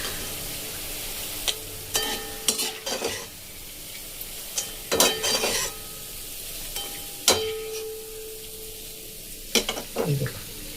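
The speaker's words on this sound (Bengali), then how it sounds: "আমার সবগুলোই হয়ে গেল ভাজা।" Lentil snacks fry in hot oil with a soft steady sizzle, broken by repeated scraping and clinking of a metal spoon or strainer against the pan in short bursts.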